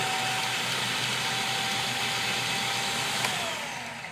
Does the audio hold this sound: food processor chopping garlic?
yes